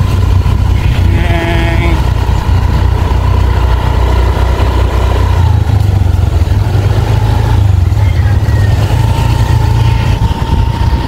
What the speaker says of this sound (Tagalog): Magmumotor tayo guys.